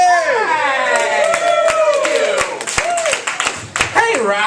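Scattered clapping and whoops from a small audience at a comedy showcase in a bakery cafe in Rockford, with sharp separate claps over cheering voices, steady and fairly close throughout.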